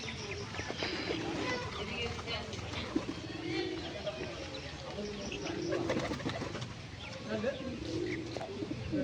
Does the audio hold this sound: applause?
no